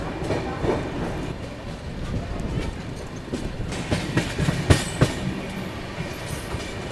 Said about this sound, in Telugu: ఇక్కడ మన ట్రైన్ స్కిప్ చేసి వెళ్ళిపోతుంది